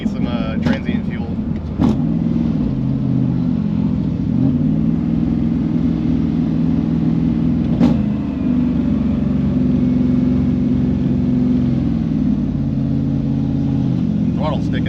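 LT1-powered third-generation Camaro cruising with a deep, rumbling engine drone that rises and falls, broken by a few sharp exhaust pops, with people talking inside the car.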